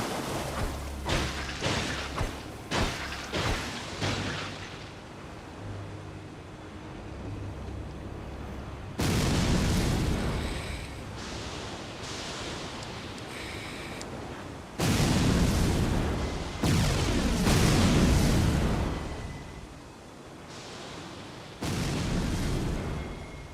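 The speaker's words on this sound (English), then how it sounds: "Poison these little dudes and make them explode." Poisoned enemies exploding in Elden Ring, a run of loud booming blasts in bursts, first quick thuds then longer roaring explosions with rumbling gaps between them.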